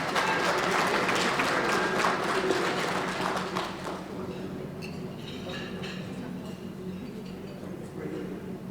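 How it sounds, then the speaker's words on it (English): A crowd applauds a jazz ensemble at a jersey retirement celebration, loud clapping for about four seconds that then thins and fades into quieter room noise with scattered claps. "Give them a round of applause."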